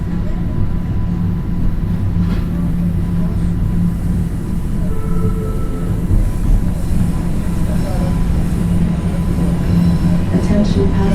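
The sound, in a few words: TTC subway train running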